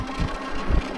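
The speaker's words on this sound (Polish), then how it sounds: "Słyszycie nawet to po silniku, że zaczął głośniej chodzić." The hub motor of an Engwe EP2 Boost 250W 48V folding fatbike hums louder in boost mode while climbing a small hill, a steady mechanical whine over broadband wind and road noise, with no talking.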